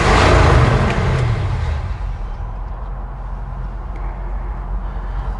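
Engine of a 1972 Chevy C20 utility truck fitted with FiTech EFI, heard just after starting, with a loud initial flare in revs that settles into a steady, lower idle rumble.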